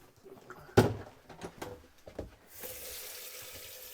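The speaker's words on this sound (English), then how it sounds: "This just shows your water pumps working." Water runs from a tap in a 2024 Swift Kon-Tiki 794 motorhome as its water pump works, starting with a sharp knock and a few clunks, then settling into a steady, moderately loud hiss of flowing water.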